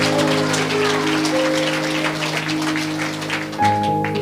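A church congregation claps together in dense, even applause for several seconds, the crackling patter sitting under sustained keyboard-like tones.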